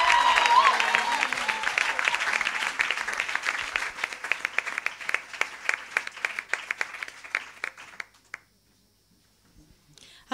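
A church congregation claps and acclaims the Lord, dense rhythmic applause that thins into sparse claps before dying out to near silence.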